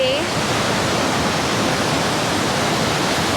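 Water at European Falls in Victoria's high country rushes steadily into a drainage, a loud, dense, unbroken roar heard close by.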